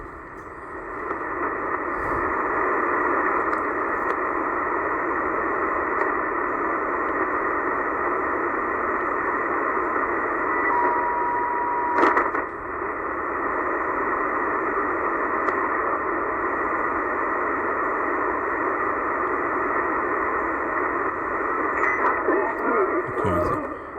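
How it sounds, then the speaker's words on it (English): Steady hiss and crackle of shortwave radio band noise between 5000 and 6000 kHz under solar conditions, with faint tones and brief bursts of interference drifting through the static. "Conditions are producing a lot of noise in the bands this morning"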